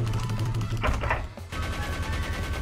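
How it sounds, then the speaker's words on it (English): Cartoon rapid-fire gunshot bursts in an SMG4 animation as cups of coffee are shot out like bullets, a dense rattling volley broken by a brief gap before resuming, loud and up front. "Firing cups of coffee at everyone"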